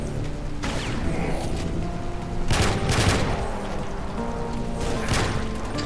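Weapons fire in Doom Sigil run in GZDoom: a few sharp shots and heavy booms land at irregular intervals over a rumbling game background.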